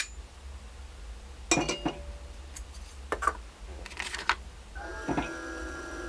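Gunpowder goes into a bullet cartridge case during reloading, with faint, scattered clicks, ticks and small metallic clinks from the reloading gear, close and quiet against a low hum.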